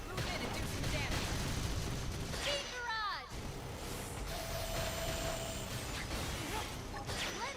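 Gunfire in Xenoblade Chronicles X crackles in bursts over a dense, noisy battle soundscape, with whooshing effects and a voice speaking through it.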